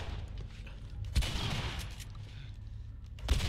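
Shotgun blasts in the video game The Last of Us, with two heavy booming shots spaced a couple of seconds apart over a busy, noisy game background and no clear talk.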